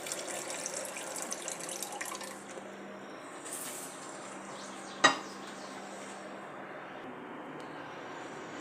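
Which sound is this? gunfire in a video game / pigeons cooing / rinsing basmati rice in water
rinsing basmati rice in water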